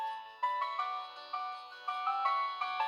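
A Dsfen V1 Chinese flip phone plays a ringtone, a bright electronic melody of short repeated notes in a steady rhythm, clear and close with no talking.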